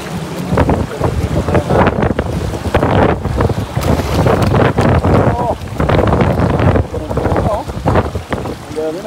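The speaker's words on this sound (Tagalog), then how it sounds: "Grabe yung ano hangin no." Strong wind gusts blowing hard over a river during rain, buffeting the microphone loudly and continuously, with people's voices talking intermittently underneath.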